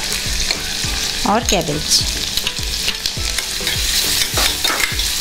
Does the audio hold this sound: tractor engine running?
no